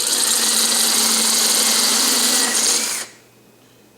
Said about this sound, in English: let's drill this out to the right size